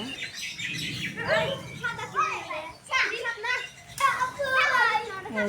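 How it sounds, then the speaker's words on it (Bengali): Grandchildren shouting and chattering outdoors on a rainy, cloudy day, their excited high voices overlapping in lively bursts throughout, with faint bird chirps in the background. "আমার নাতি নাতনিরা খালি কথা বলতেছে চিল্লাচিল্লি করতেছে"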